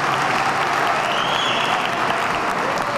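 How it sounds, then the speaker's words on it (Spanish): An audience in a school gives sustained applause during a children's protection lecture, a dense even roar of clapping at steady volume across the whole stretch. "Un aplauso para todos los que están hoy presentes en este colegio."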